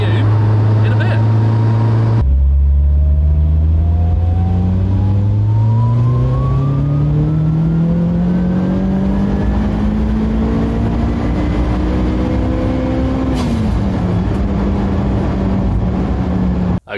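A turbocharged car accelerates hard on an airfield, its engine note climbing steadily through a long pull after a gear change, loud and close from inside the cabin before cutting off abruptly at the end.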